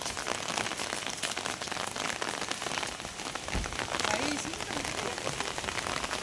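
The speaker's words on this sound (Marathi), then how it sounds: "पावसाला जाऊ पण खूप आहे, जोरात पाऊस." Heavy rain pours down in a dense, steady hiss of drops pattering on surfaces, a continuous, fairly loud downpour with no clear voices over it.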